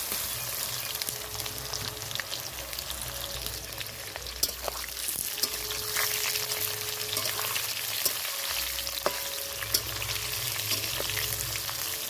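Green mango and fennel seeds frying in hot oil in a pan for a sweet-sour raw mango pickle. A steady, close sizzle runs throughout, with occasional stirring clinks and no talk.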